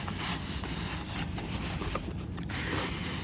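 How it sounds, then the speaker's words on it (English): The zipper on a padded Browning gun case is drawn open in a series of short, close, scratchy rasps and rubs, fairly quiet, with no talking. "we'll unzip this here"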